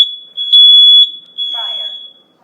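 A Kidde 30CER-V combination smoke and carbon monoxide alarm is tested in a basement hallway, giving loud, piercing high-pitched beeps up close, followed by a short spoken voice announcement from the unit.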